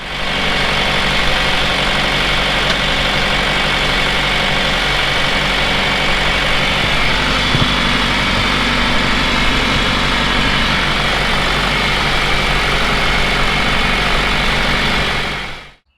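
A John Deere 2755 tractor engine idles steadily and loudly up close in a cornfield, a deep rumbling chug with a constant mechanical drone, running without pause until it cuts off at the end.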